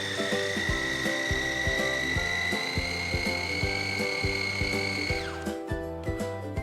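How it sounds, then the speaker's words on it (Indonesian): Electric chopper or food processor blending a meat and tofu filling for fried dumplings, a steady whirring motor with rhythmic thumping that slows and winds down near the end, close up. "ini kemudian akan kita haluskan gitu ya dengan menggunakan chopper ataupun food processor sampai nanti benar-benar tercampur rata"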